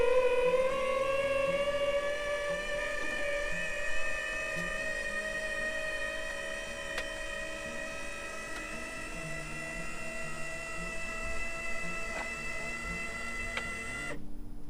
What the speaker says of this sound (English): What you are hearing there is our roof hatch just opened.